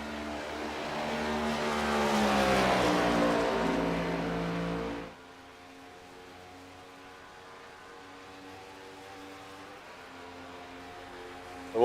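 NASCAR Next Gen race cars in iRacing qualifying at Pocono Raceway: a loud engine drone climbs and sweeps through gears, then cuts abruptly to a quieter, steady distant engine hum.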